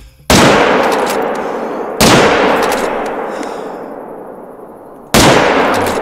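Three loud hunting rifle shots from theHunter Call of the Wild during a Cape Buffalo hunt, each a sharp close crack with a long decaying echo, the first two two seconds apart and the third after a longer pause.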